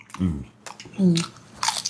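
Crispy pata, a crunchy deep-fried pork leg, being bitten and chewed up close in a few crisp crunches spread across the moment, with people speaking between bites.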